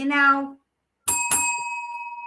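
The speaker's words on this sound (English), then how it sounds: "I bought him a bell for his tricycle." A bell on a child's tricycle gives two quick bright rings that hang and fade, right after a short stretch of speech and a silent gap.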